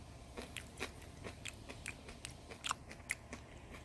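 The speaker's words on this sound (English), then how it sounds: "it's a pleasant crunch with a very moist inside." Crisp bites and chews of a small crunchy cucamelon, close up and fairly faint, with a dozen or so short snapping crunches spread unevenly over a few seconds.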